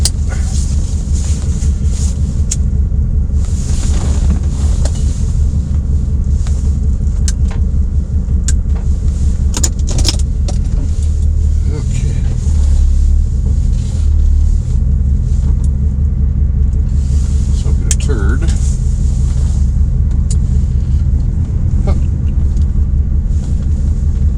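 A C4 Corvette drives along the road, its deep engine rumble and tyre roar loud and steady throughout from inside the cabin, with small knocks and rattles scattered over the drone.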